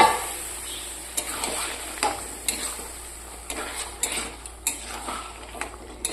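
A spoon scrapes and clinks in a pan while peas fry in mutton fat for ghugni, with soft sizzling underneath and repeated sharp stirring knocks at irregular intervals.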